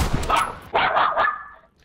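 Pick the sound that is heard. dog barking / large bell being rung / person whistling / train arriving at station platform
dog barking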